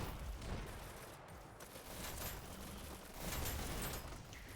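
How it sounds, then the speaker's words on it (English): Rapid rocket and weapon fire in the competitive futuristic shooter Hyper Dash, a dense continuous barrage of bursts and blasts that swells and fades over a few seconds with no voices. "He'll charge his dash and come through, firing rockets."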